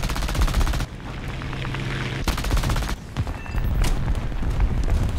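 A T-26-4 tank in War Thunder ground battles fires with heavy, booming reports amid sustained rapid gunfire, loud and continuous with brief breaks between bursts.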